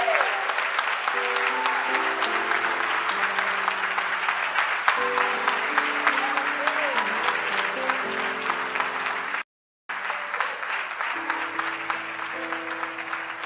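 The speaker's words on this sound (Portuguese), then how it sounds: "Você pode aplaudir o Senhor?" A church congregation applauds steadily and heavily at an evening service, over sustained organ-like keyboard chords, with a brief dropout near the end before the clapping resumes.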